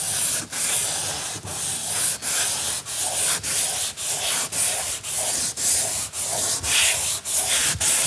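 Steady hand sanding on a part from an Oettinger TCR street kit, with about a dozen even, rhythmic back-and-forth rubbing strokes worked over one spot, close and loud with no talking.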